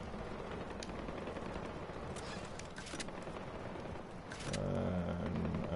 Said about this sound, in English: I can hear gunfire going on in the background